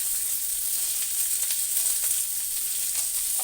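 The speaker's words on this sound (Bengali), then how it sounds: "পেঁয়াজ কুচিটা ভাজা ভাজা হোক, তার মধ্যে দিয়ে দেবো যে লঙ্কা" Chopped onion and chillies fry in oil, a dense, steady close-up sizzle with faint crackles, no pauses and no voices.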